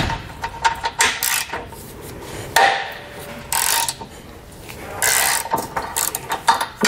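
An 18 mm socket wrench loosens tow hook bolts on a 2017 Chevrolet Colorado, giving close, bursts of ratcheting clicks and metal clanks separated by short pauses, with no talking.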